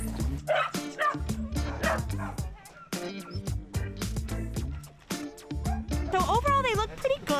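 Rescued farm dogs on Oahu's North Shore, thin and kept on chains, bark and yip loudly and nearly nonstop at close range, with bursts of whimpering mixed in.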